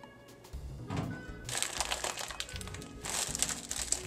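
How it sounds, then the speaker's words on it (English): A cat playing with a paper bag in a kitchen, producing irregular bursts of crinkling and rustling paper that come and go in uneven clusters at moderate to faint loudness, with no speech. "That would be my cat playing with a paper bag."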